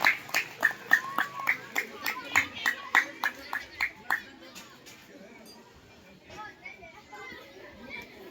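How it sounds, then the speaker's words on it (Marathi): Students at a school yoga day event clap together in unison, about a dozen crisp, evenly spaced claps in quick rhythm, followed by quieter chatter from the children. "टाळ्या वाजवा, स्काउट, क्लॅप, गो"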